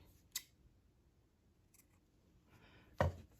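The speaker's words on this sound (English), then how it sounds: "I need some scissors. Okay, so I'm gonna cut it." Scissors cutting fabric by a serger in a sewing setup: a faint snip, a pause, then a louder, sharper close-up snip near the end over a quiet background.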